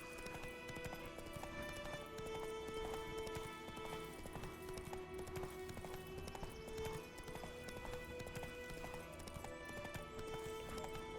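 Roach the horse galloping in The Witcher 3: Wild Hunt, a steady rhythmic clip-clop of hooves running on and on for over ten seconds, beneath layered music, with no talking.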